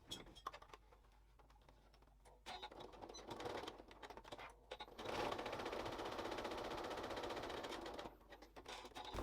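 A sewing machine stitches along the edge of felt, a fast steady mechanical whirring hum that starts and stops in bursts of a few seconds, fairly faint and close.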